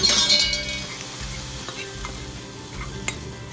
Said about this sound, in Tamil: கீரையில் கொட்டிட்டு கலக்கணும்